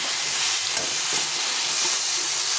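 Hilsa fish heads stir-fry in a hot pan, giving a steady, loud broadband sizzle with faint scraping as they are turned, continuous throughout with no voices.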